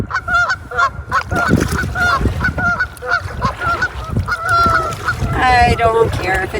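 Geese on a lake bay honk repeatedly in a loud, overlapping chorus of nasal calls, close by, with the calling building louder toward the end.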